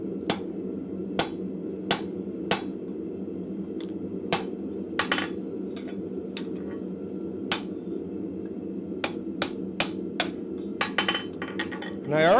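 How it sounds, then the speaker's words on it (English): Blacksmith's hammer striking hot rivet stock on an anvil to upset it, about a dozen sharp ringing metallic blows at irregular spacing over a steady low forge hum. "try and hit this down to start upsetting it"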